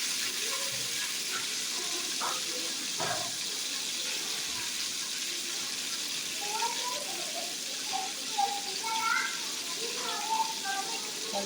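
Mint and coriander frying in hot oil as a tempering for Sunday-special chicken sambar, a steady soft sizzle throughout with faint kitchen clinks and movements, under intermittent talk.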